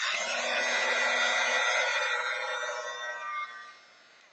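A hair dryer blows steadily to dry paint, a close, loud whooshing roar with a whining tone that holds for a few seconds, then drops as it is switched off.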